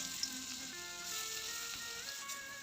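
Fish sizzling as it fries in a pan, a steady quiet crackle and hiss running throughout with no talk over it.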